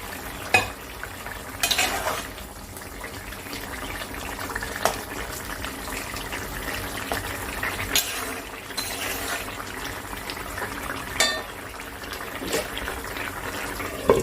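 Fried lentil fritters dropped into a pot of simmering ash gourd greens, a low bubbling simmer punctuated by a few sharp splashes and clanks of a spoon against the vessel, fairly quiet with no talking.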